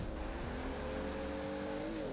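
A Toyota Supra engine in Forza Horizon 4 drones at steady high revs, a sustained whine with a low rumble beneath, close and fairly constant, with no one talking.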